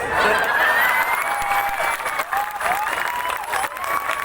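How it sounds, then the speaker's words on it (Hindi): Applause and cheering from a large crowd at a public speech, loud and dense, with whistles and shouts riding over the clapping and the roar fluctuating as it continues. "तालियां बजा सकते हो।"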